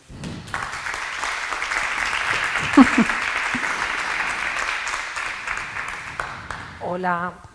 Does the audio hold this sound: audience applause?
yes